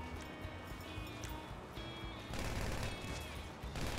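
Gunfire in GTA 5 Online: a dense, rapid rattle of shots heard faintly at a distance, continuous and growing a bit louder partway through.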